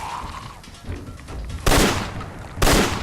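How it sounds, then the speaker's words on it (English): Two heavy Mossberg 590A1 pump shotgun blasts in Fallout 4, loud and sharp with a booming tail, spaced about a second apart after quieter game ambience. "Those shots should be hitting, right?"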